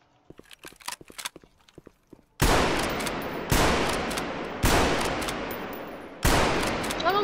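Four loud shotgun blasts in the game Garry's Mod, spaced roughly a second apart, each with a long decaying tail, following a few softer clicks and taps.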